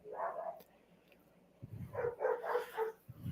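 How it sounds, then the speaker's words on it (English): Several dogs bark in short bursts at close range, a cluster of yips and woofs at the start, then a quick run of four or five barks after a pause, with a low rumble between. "That's my dogs."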